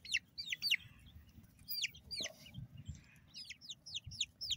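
Baby chicks chasing a worm ball, with a steady stream of high, quick chirps and peeps in short overlapping bursts close by, over a low rustling and scratching background.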